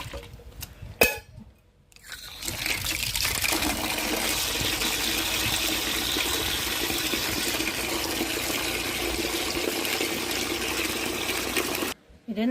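Sour buttermilk poured into a bucket to make organic fertilizer solution for vegetables: after a few clinks, a steady, continuous liquid stream runs for about ten seconds, then stops abruptly.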